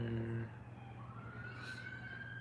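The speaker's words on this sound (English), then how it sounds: "Yo, all the time with the sirens." A police car siren wails in the distance, a steady rising tone running under low background noise while a voice is heard faintly at the start.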